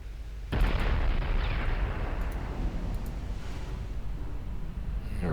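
Naval gunfire from warships in Ultimate Admiral Dreadnoughts, a loud sustained roar of artillery and explosions that starts abruptly and rumbles on for several seconds, alone without talk.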